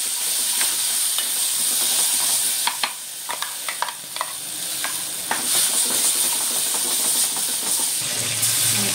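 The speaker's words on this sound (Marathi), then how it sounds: "जे आपण वाटून घेतलेलं मिक्सरमध्ये ते वाटप टाकत आहे फोडणीला" Freshly ground masala paste hits hot tempering oil for a Malvani pomfret fish curry, a loud, steady sizzle and hiss with bursts of spatter and scraping stirs, a pot knock near the end.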